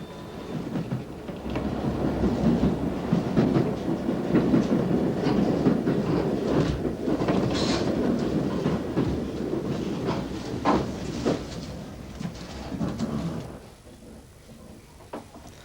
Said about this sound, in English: the Chalfont shuttle to Chesham still runs